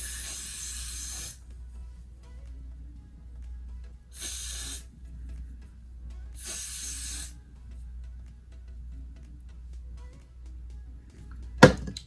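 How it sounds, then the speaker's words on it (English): Hairspray spritzed over the top of a lace closure wig in three bursts, a long one, then two shorter ones after pauses, close and crisp against a quiet room, ending with a sharp click. "I take some of that free spray and spray it right on top."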